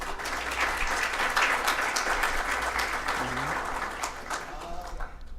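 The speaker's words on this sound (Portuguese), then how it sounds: "Uma salva de palmas, por gentileza." Lecture audience applauding as a technology and Big Data speaker is welcomed onstage: a dense, steady wash of many hands clapping throughout, with a faint voice briefly audible partway through.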